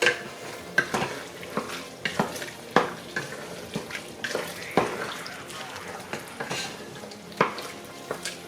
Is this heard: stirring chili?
yes